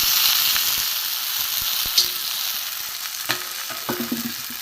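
Fish heads go into a pan of okra and potato chachchori, and steady frying sizzle fills the whole clip while a few soft knocks and scrapes of stirring come near its end. No one speaks.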